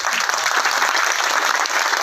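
Audience applause at a Hindi poetry recital in Beawar, a steady, dense wash of clapping that stays loud and even for two seconds with no voices over it.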